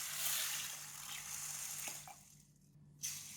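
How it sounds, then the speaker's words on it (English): Water swishing and running over red beans being washed in a basin, a soft continuous rush with faint splashes, quiet and close, fading near the end before a brief final splash. "Wash it with water."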